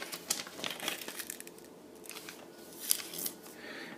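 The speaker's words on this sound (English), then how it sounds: "fold the third over, fold it really sharply" Origami paper being folded and creased sharply with the white side up, giving close, crisp crinkling and rustling with a few sharp paper snaps, loudest near the end.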